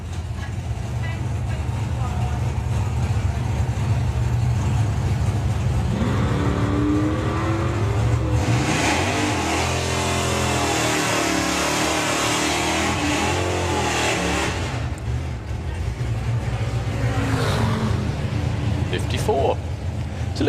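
A Dodge drag racing car on the strip at a nostalgia drag meet produces a loud engine roar that rises in a sweeping revving pitch midway, over constant engine rumble, while announcers talk over it.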